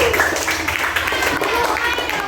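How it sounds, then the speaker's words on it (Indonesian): Students clap their hands together in a classroom teaching session, a dense, steady patter of many hands close by, mixed with voices talking over it. "tepuk tangan"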